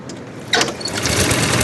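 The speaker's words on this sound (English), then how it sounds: "when you start the engine" Edwardian car's engine firing up, a loud close burst at about half a second that settles into rapid, rough mechanical chugging.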